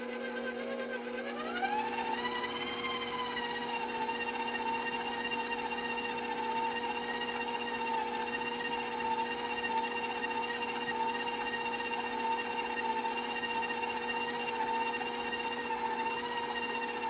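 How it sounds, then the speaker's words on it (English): Electric mixer starting up and spinning through pie dough for an Italian cream pie, a motor whine rising in pitch over the first two seconds and then holding a steady, fairly faint hum with no talk. "Now I can restart my mixer."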